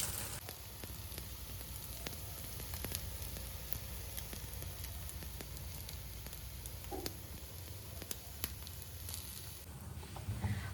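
A noodle omelette of beaten egg fries in a covered pan, giving a steady, soft sizzle with faint crackles and pops throughout and no talking.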